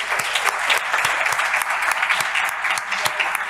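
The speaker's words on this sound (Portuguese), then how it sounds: "Então eu queria aplaudir o Tomás de Aquino" An audience applauds Tomás de Aquino at a talk, a sustained wash of clapping from many hands with some individual sharp claps standing out near the front.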